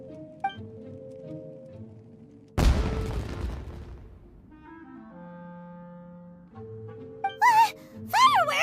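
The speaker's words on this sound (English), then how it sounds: "Was that an explosion? It sounded like fireworks." A fireworks explosion in the video game Genshin Impact: a single sudden, heavy boom that decays over about a second amid quiet game music, followed later by brief whistling, rising tones.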